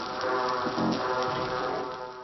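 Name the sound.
Australian coral reef underwater soundscape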